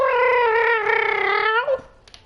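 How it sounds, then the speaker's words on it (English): A cat yowls loudly and close by in one long, wavering, drawn-out cry that rises and bends before breaking off, followed by near silence. "I didn't know cats could be that loud."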